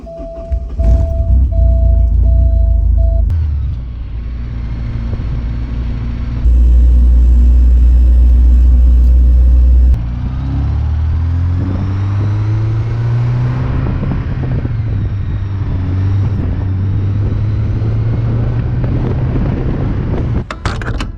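A Porsche 944 rumbles along a road, with a deep engine drone heard from inside the car, pitch rising and falling through gear changes and a few abrupt shifts in the background noise.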